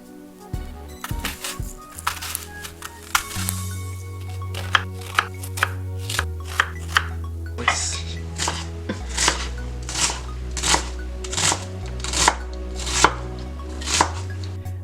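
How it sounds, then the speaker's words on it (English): A knife dices an onion on a cutting board, sharp close chops, first a few irregular cuts then a steady series of evenly spaced knocks, with low background hum. "we're going to give it about 3 horizontal knife cuts, and then we're going to go vertical, vertical, vertical, vertical, vertical"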